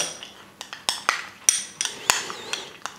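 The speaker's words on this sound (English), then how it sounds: "We're mixing that very well together." A spoon mixes horseradish cream with mustard in a bowl, producing a run of quick, sharp clinks and taps against the dish at an irregular pace, close and moderately loud.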